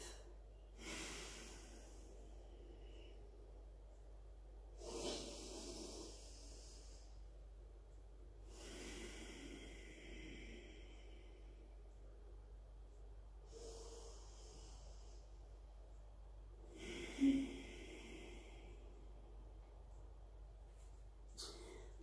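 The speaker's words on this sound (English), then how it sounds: "try to slow down to the count of 5 as you breathe in. Exhale for 5." Slow, deep breaths during a yogalates practice, each long inhale and exhale drawn through the nose at a steady pace of about five counts, close and soft against a quiet room hum.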